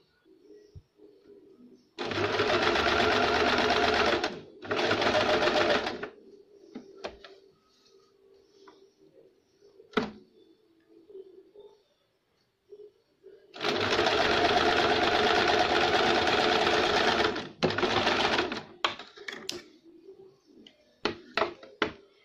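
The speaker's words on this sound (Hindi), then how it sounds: "यहाँ से किनारे पे सिलाई देंगे उसको" A sewing machine stitches along the edges of a baby frock in two long runs, the first broken by a brief pause, with quiet clicks and handling of the fabric in the gaps between, close and loud.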